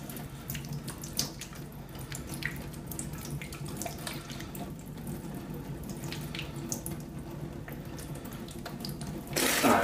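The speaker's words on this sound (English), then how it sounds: "And now let's give it a wash off." Tap water running steadily onto a shoe to rinse off juice and chocolate syrup, a close continuous splashing stream that grows louder and brighter at the end.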